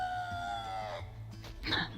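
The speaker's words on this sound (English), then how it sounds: "Chicken." A chicken in a home vegetable garden lets out a drawn-out, rising-then-falling call that fades midway, followed by a few short clucks, close and fairly loud with no talking.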